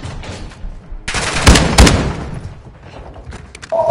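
Gunfire in Call of Duty: Modern Warfare II Spec Ops, a loud burst of several close, sharp shots clustered in the middle, with rumbling game ambience before and after and a brief tone at the end.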